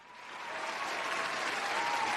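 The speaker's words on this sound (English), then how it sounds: "give him some applause" Applause on a basketball debate show, a smooth continuous wash of clapping that swells in at the start and holds steady, fairly quiet, with no talk over it.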